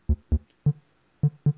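A Eurorack modular synthesizer plays a sparse bass pattern of short, punchy low notes in an uneven rhythm, six hits in under two seconds, with clean silence between them.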